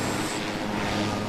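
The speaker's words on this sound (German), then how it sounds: "Und startet die Turbine." A helicopter turbine spools up steadily, a loud continuous roar with a faint high whine, with no speech over it.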